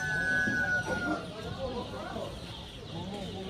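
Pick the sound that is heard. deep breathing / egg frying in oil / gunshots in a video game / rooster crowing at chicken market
rooster crowing at chicken market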